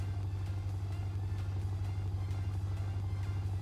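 A video game car engine, a tuned Moonhawk fitted with a dual side pipe exhaust, idles with a steady, deep, even rumble and a constant low drone throughout.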